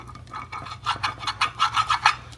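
Spoon or scraper grinding across the bottom of a pot to loosen burnt gelatin, a series of rough rasping strokes that grow faster and louder, close up with no talking.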